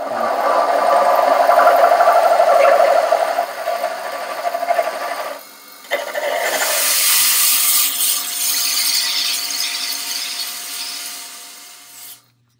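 A power tool cuts a threaded rod in half with a steady, loud grinding whine that shifts pitch partway through, briefly dips, then resumes brighter and harsher before stopping abruptly, close up with no talk.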